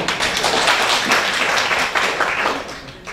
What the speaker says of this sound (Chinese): 鼓掌欢迎顾怡君顾老师